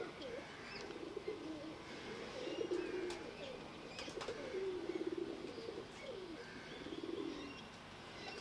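Pigeons coo softly at a distance amid steady outdoor ambience, with occasional chirps and faint wing flutters.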